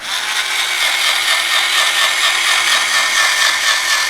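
A power saw cuts through a fiberglass lid from a Ranger boat, giving a loud, unbroken, high-pitched grinding whine that holds steady throughout with no pauses.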